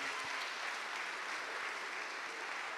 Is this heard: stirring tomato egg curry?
no